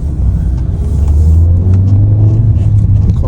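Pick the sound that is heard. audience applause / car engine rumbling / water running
car engine rumbling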